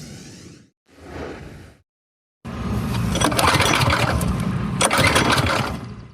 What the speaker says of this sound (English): Ladies and gentlemen, start your engines.